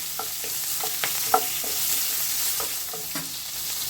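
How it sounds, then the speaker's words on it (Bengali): Sliced onions fry in a pan for a light chicken and vegetable curry, a steady close sizzle broken by regular spatula scrapes and taps, with no voices. "এর মধ্যে আমি দিয়ে দিচ্ছি কিছুটা পেঁয়াজ"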